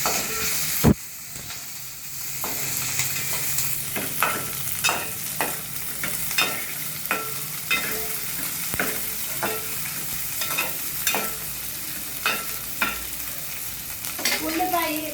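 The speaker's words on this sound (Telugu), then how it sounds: "ఉల్లిపాయ పచ్చిరక వేసుకోవాలండి" Onion and green chili fry in a pan for a ridge gourd curry cooked with milk, giving a steady sizzle broken by repeated scraping stirs, with one sharp knock near the start.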